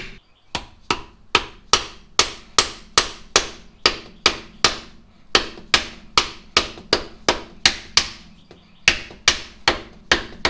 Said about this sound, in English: I just want to try to tap that in to break that seal